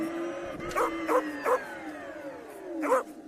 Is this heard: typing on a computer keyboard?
no